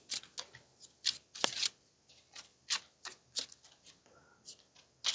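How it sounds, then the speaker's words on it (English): Rapid papery riffles of a deck of cards being shuffled, a series of crisp bursts close by with brief pauses between them. "we're just giving it a quick shuffle."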